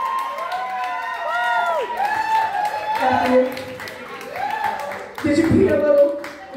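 A crowd at a birthday celebration cheers, shouts and claps in a loud, continuous wash, with whooping voices rising and falling throughout and a burst of clapping near the end.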